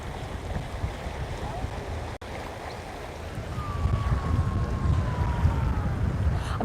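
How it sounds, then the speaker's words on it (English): Wind buffets a microphone on a beach at Alcudia, Mallorca, a constant low rumbling gust noise that swells louder in the second half, with surf and a faint whine beneath. "If it is too windy, let me know how the audio is, whether it's too windy"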